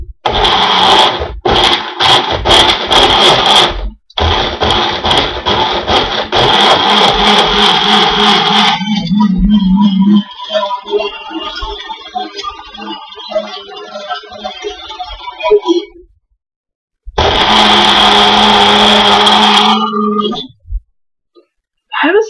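A Magic Bullet blender whirs loudly in a home kitchen, its motor grinding in bursts with a pause between runs, while a person talks briefly near the end.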